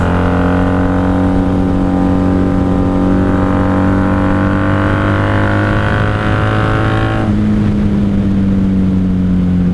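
A 1994 Honda Magna 750 motorcycle engine droning loudly and steadily while the rider brakes. Near the end the tone drops as the throttle is let off, with no voices.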